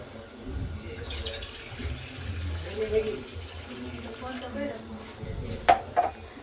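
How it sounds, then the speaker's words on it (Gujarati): Water is poured into a cooking pot on a gas stove for Maggi noodles, with a faint splash and trickle, soft metallic clinks of the pot, and low background noise. "હવે આપણે એમાં પાણી નાખી દઈશું."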